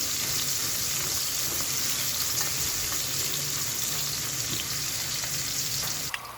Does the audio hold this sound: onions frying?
yes